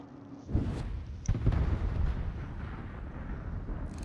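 A British battlecruiser's big gun fires into a smoke screen in a naval video game, a deep boom followed by a second heavier blast and a long rumbling roll that fades slowly.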